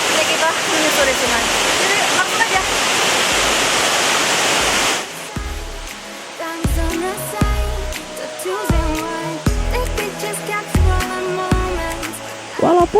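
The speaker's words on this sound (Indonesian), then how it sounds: "air sungai kali ini terbilang tidak deras" Rushing river water streams steadily for a few seconds, then gives way to quieter, irregular knocks and clatter with the flow fading into the background.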